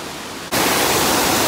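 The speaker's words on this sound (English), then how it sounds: "I'm underneath a waterfall right now." After a quiet moment, a loud roar of a waterfall, heard from underneath, suddenly fills everything, a dense, continuous hiss close by.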